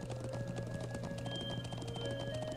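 Horse hooves clip-clop at a steady, even pace in a role-playing video game, looped over a continuous musical drone with no talking, moderately quiet throughout.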